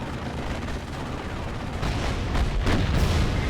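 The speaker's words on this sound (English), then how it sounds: "We're gonna see if we can drop mortar on them" Mortar barrage in the video game Steel Division: Normandy 44, a dense rumble of gunfire and booming impacts that builds in loudness toward the end, with repeated sharp blasts over a continuous low roar.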